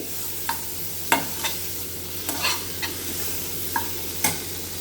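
Spices and fennel powder sauté in a pan under a soft continuous sizzle, punctuated by about eight sharp spoon strokes against the pan, close and without speech.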